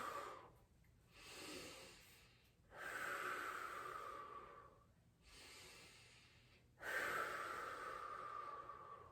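Deep, slow breathing during a hip mobility exercise: four long audible breaths alternating inhale and exhale, close and breathy with faint hiss, no speech over them.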